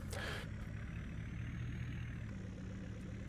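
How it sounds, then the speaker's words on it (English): A truck engine in Farming Simulator 22 turns over and settles into a steady, low idle, with a brief louder burst at the start and a continuous rumble close by. "So I need to remember to start the truck first."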